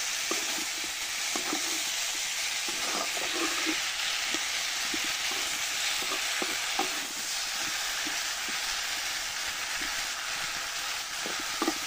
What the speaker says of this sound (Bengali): তো শালগমগুলা মশলা দিয়ে নাড়িয়ে ছেড়ে দিলাম